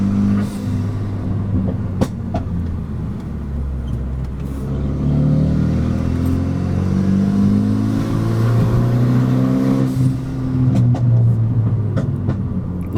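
A Renault Megane RS 265 (RB8) project car's engine pulls hard in third gear through tight mountain-pass corners, a loud, close, steady drone that rises and falls in pitch with throttle, heard without talk.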